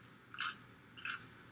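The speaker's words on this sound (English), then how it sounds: "Crunchy. I love the crunchy pizza though" Two crisp bites into crunchy pizza, about half a second apart, close and clear against a quiet background with no one talking.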